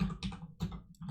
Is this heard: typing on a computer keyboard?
yes